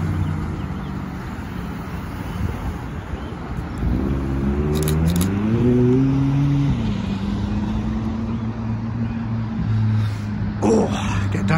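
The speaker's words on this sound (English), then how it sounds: "That is a McLaren 620R." A McLaren 620R supercar drives past close by, its loud engine note rising and shifting through a few gear changes before settling into a steady drone, with wind buffeting the microphone.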